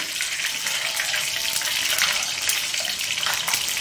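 Washed curry leaves dropped into hot oil for Andhra-style okra 65, giving a loud, steady, close hiss and crackle that runs without a break.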